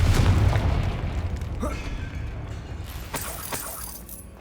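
Confringo explosive spell in the video game Hogwarts Legacy, a heavy boom with a shattering burst at the start that trails off into rumbling debris and a few crackling pops, loud and close.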